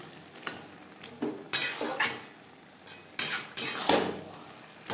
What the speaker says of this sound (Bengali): ভাজা মশলা বাঁধাকপির সাথে বেশ ভালো করে মিক্সড করে দেবো।